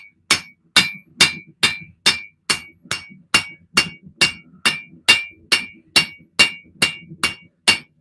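Hot metal is rounded on the anvil with the rounding end of a hand hammer in a home forging shop, about sixteen sharp, ringing strikes landing in an even, brisk rhythm, close and loud with no talk.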